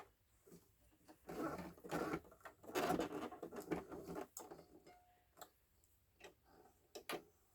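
A sewing machine stitches through a padded envelope being made into a junk journal cover, running in short irregular bursts of rapid ticking with pauses and clicks between them.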